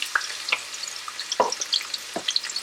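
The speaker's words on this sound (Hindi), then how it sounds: "तेल हो गया यहाँ पर गरम। इसमें आपने ऐड करना है 3 बड़े साइज़ की प्याज।" Sliced onions, three large ones, frying in hot oil for a ginger chicken dish, giving a light steady sizzle with a few soft stirring clatters, close and fairly quiet with no talk.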